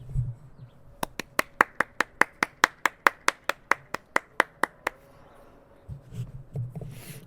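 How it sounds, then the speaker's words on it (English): A podcaster claps his own bare hands near the microphone: about eighteen sharp, evenly spaced claps in a steady rhythm, followed by quiet room noise and a little shuffling. "I'll put the microphone down and just clap myself"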